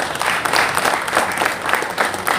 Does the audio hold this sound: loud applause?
yes